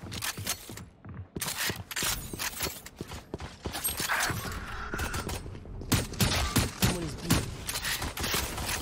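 Vandal rifle fire in Valorant, a XERØFANG skin, crackling in rapid bursts of sharp shots with short pauses between strings, close and punchy, alone without talk.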